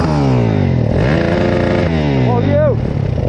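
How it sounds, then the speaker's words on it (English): Busy road traffic of cars and motorcycles passes close by, with engines revving and shifting pitch as vehicles accelerate; a voice talks over the steady engine noise. "traffic is nuts. Sounds nuts, that does."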